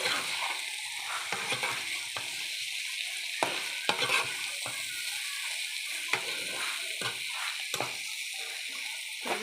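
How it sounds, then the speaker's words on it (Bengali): Pieces of rohu fish are stirred and turned in a frying pan for a cauliflower, potato and tomato curry; a steady soft sizzle runs under repeated sharp scraping and clacking of the spoon against the pan. "মিশিয়ে নেবো মাছগুলো খুব সাথে ভালো করে উল্টিয়ে পাল্টিয়ে মিশিয়ে"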